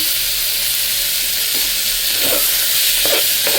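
Rinsed toor dal sizzles steadily as it fries in a pan for a dried red chilli and tomato dal, with a continuous close hiss and faint stirring scrapes near the end.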